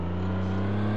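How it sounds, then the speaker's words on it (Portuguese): Car in The Godfather on PS2, tires squealing as it skids over a steady droning engine hum, a short continuous burst with no breaks. "olha o som do pneu roendo"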